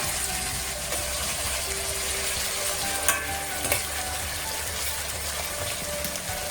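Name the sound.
onions frying and browning in a pan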